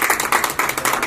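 A crowd gives dense, steady applause at a ceremony honouring a pulse polio campaign worker. The clapping is close and continuous through the short moment, with no voices over it.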